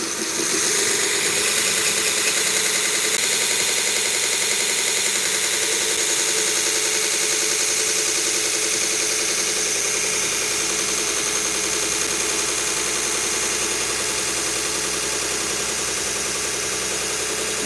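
A belt grinder with a 120 grit Cubitron belt runs at 2,000 RPM while sharpening knife, scissor and pruner blades, giving a loud, steady, unbroken whir and hiss that holds level throughout with no talk.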